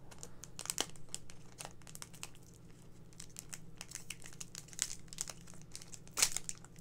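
A Pokemon TCG Chilling Reign booster pack wrapper is torn open by hand. Close, quiet crinkling and tearing comes in irregular bursts, with a few sharper rips over a low background hum.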